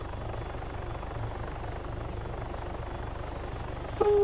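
Helicopter landing in the military game Arma 3, a steady close rotor chop with regular thumping blade beats and engine whine throughout, a brief louder click near the end.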